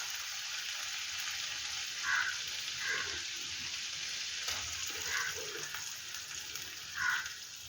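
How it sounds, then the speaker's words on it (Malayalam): Sliced onion sizzles and fries steadily in a pan for paneer butter masala, a continuous crackling hiss with a few soft stirring knocks. "സവാളയും നന്നായിട്ടൊന്ന് മൂപ്പിച്ചെടുക്കാം"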